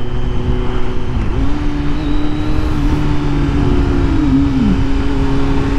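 A 2020 Kawasaki Z900 motorcycle riding on a highway at night, its steady loud engine drone and wind roar continuous throughout, with the engine tone shifting slightly as it goes.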